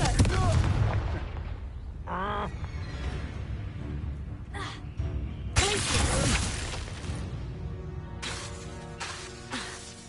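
Fiery Confringo spell blasts go off in Hogwarts Legacy, sharp explosive bursts and crackling impacts mixed with game music and effects, loud and close.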